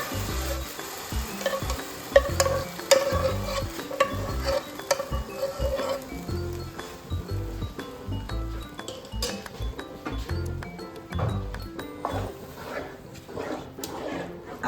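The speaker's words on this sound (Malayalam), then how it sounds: "അത് 1 മിനിറ്റ് ഒന്ന് നെയ്യിലൊന്ന് നമുക്ക് വഴറ്റിയെടുക്കാം" Drained jackfruit pieces sautéed in ghee for a sweet jackfruit payasam, with a gentle continuous sizzle under repeated scraping and clinking of a spoon against the pan, close and fairly loud.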